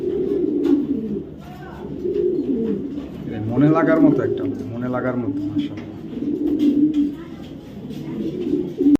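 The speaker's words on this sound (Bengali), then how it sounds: "আমার খুবই পছন্দের একটা নর কবুতর" Repeated low coos of a male racing pigeon, rolling calls close by, with someone talking over them throughout.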